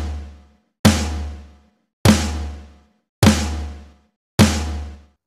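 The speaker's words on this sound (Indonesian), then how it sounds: "Kemudian ketuk secara bersamaan snare dan floor sebanyak 5 kali." Snare drum and floor tom on an acoustic drum kit are struck together in evenly spaced hits about a second apart, each a sharp, loud crack with a booming low tail that rings out before the next.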